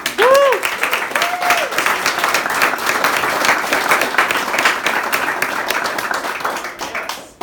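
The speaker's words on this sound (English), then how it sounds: "let's give him a round of applause" Loud, dense applause fills a crowded fundraiser room in Los Angeles, steady clapping from many hands that swells at once and carries on for several seconds before tapering at the end, with a brief voice near the start.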